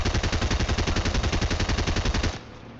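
Rapid automatic gunfire in the Fortnite video game, a loud sustained burst of evenly spaced shots lasting about two seconds before cutting off abruptly to a low background hum.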